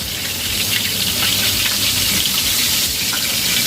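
Red snapper fries in hot oil with a loud, dense, continuous sizzle that holds steady and close throughout, with no voices over it.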